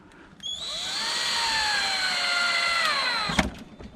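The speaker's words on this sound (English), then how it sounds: "4 more of my P4 screws in this side and we should be good to go." A power drill drives a screw into a wooden chicken coop, its motor whining up to a steady high pitch for about three seconds before stopping with a clunk.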